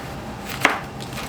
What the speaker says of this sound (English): Chop this part off.